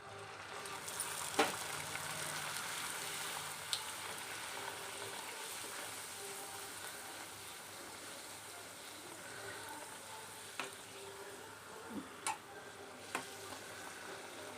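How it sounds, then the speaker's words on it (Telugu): Pieces sizzle and fry in hot oil for Telangana-style poori curry, a steady low crackle running throughout with a few sharp ticks and pops, moderately near and fairly quiet, with no talking. "ఇట్లా మిగతా అన్నీ ఇలాగే వేయించుకుందాం"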